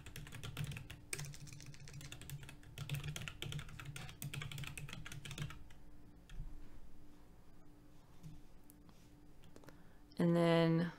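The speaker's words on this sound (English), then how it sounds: "for testing purposes, I'm just going to type my test account in here." Typing on a computer keyboard, entering a test account into a form, clicks along in soft, quick runs for the first half and then thins out, faint and close, followed by a short tonal beep at the end.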